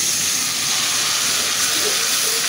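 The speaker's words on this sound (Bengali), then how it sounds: "এখন আমি একটু পানি দিয়ে দেব।" Water hits a hot pan of frying onion, ginger and garlic, giving a loud continuous hissing sizzle that holds steady and close for the whole moment.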